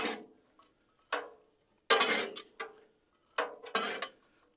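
Metal spatula scraping and clattering against a hot Blackstone griddle while garlic is mixed into peppers and onions, a series of sharp, close scraping strokes in irregular bursts separated by short pauses.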